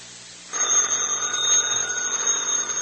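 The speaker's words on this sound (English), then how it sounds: "Answer the phone, Elsie." An old-time radio telephone bell sound effect starts abruptly and rings continuously. The bright metallic ringing is loud and close, and no one talks over it.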